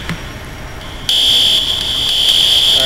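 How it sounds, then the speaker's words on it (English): A school fire alarm sounds as a loud, steady high-pitched electronic tone that switches on about a second in and holds unbroken, after a quieter stretch of background noise. "Fire alarm is annoying as hell"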